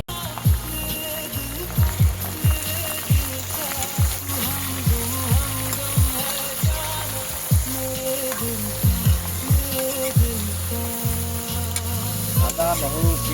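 Ginger, garlic, onion and chili fry in a pan outdoors beside a river, a steady loud sizzle broken by regular scraping stir strokes roughly every half second.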